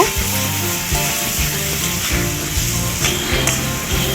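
Green chilli paste being stirred into mutton curry in a hot pan, with a steady close sizzle and frying hiss throughout and occasional scraping of the spoon against the pan; no voices.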